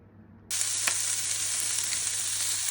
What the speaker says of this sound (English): So we're just browning the onion first.